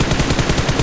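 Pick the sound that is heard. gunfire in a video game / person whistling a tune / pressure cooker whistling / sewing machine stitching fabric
gunfire in a video game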